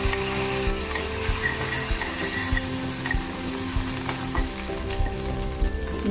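Cumin, mustard seeds, green chillies and curry leaves sizzle steadily in hot oil for a corn salad tempering, a continuous close crackling fry with small pops and occasional stirring, no voices.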